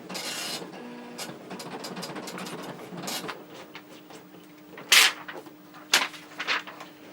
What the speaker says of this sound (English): Let's give this a print and just see what we get.